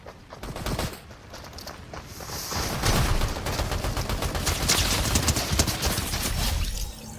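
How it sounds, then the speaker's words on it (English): Gunfire in the video game Fortnite crackles in rapid, dense bursts. Volleys of shots pile up into a sustained fusillade for most of the stretch, fairly loud and with no talk over it. "bad when they're shooting."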